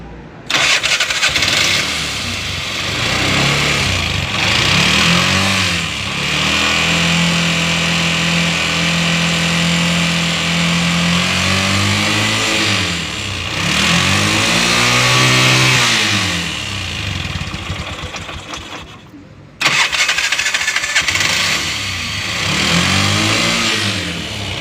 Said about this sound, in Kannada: ಮತ್ತು ಈ ಗಾಡಿಯಲ್ಲಿ ಸೌಂಡ್ ನೋಡ್ಕೊಳ್ಳಿ ಯಾವ ಥರ ಬರ್ತಾಯಿದೆ.